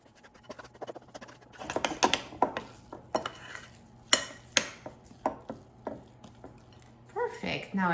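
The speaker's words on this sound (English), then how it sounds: "And now just mix everything together." A spoon stirs pumpkin puree into cake mix batter in a bowl, giving a run of irregular scraping and knocking strokes against the bowl, close and fairly loud, with a low steady hum underneath.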